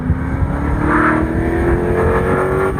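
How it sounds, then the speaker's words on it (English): A restored 1981 Chevrolet Z28 Camaro with a home-built engine, droning loudly and close with a steady tone that slowly rises in pitch as it accelerates, with no talking. "it's my Z28 Camaro"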